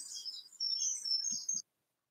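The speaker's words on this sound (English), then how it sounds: "let me turn off the birdies" Recorded birdsong played back in a classroom: bright, rapid chirps and tweets running continuously at moderate level, with a couple of soft low thumps near the end before it cuts off abruptly into silence.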